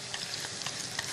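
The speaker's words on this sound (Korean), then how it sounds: "기름에 튀기듯이 구워주시면 되죠" Fish cake paste made for seafood hot bars pan-fries in shallow oil with a steady, close sizzle and faint crackles, no voices over it.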